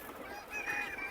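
Free-range country chickens in a poultry shed give a short, honking call, fairly close and alone, with no talk over it.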